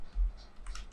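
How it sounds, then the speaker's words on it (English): Typing on a computer keyboard, a few quiet key clicks in under a second, faint and close. "So let me type"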